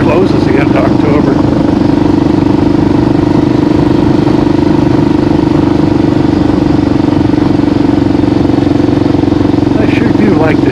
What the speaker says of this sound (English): I sure do like this KLR. I didn't know I'd like riding this thing.